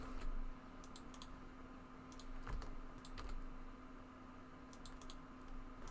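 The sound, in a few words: computer keyboard and mouse clicks entering Blender shortcuts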